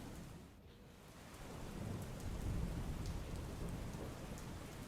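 Heavy monsoon rain in Jamnagar pours down steadily in a dense, hissing wash, with a low rumble swelling beneath it partway through.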